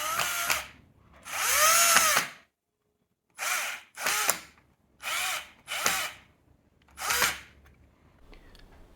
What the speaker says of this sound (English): You need to drill 2 holes if they are not already there for you